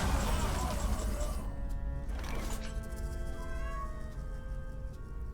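A cat meows in the Hearthstone card game, a short in-game cry over a busy bed of game music and sound effects.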